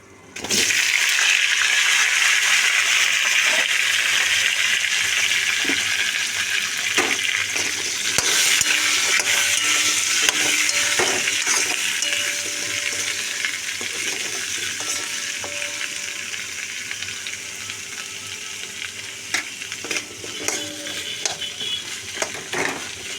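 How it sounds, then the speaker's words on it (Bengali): Potatoes frying in hot oil alongside onion, tomato, garlic and whole spices, a loud continuous hissing sizzle with occasional clinks and stirring taps, steady for over twenty seconds. "আমি আলুটা একটু তাই তেলে দিলাম"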